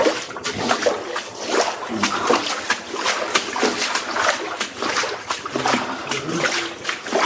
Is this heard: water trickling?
yes